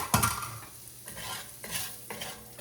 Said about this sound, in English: Saute those a little bit.